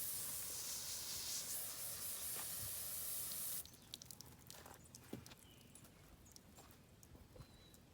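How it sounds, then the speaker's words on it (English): Hose spraying water on a horse to cool it on a hot day: a steady loud hissing spray for several seconds, then it cuts off, leaving quieter irregular splashes and dripping, close by. "we'll hose both sides of her"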